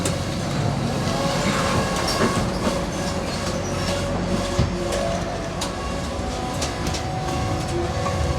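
A Melbourne number 70 tram rolls along its rails, wheels rumbling and clicking steadily with occasional metallic squeals, heard from on board.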